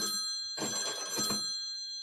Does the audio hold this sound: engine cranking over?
no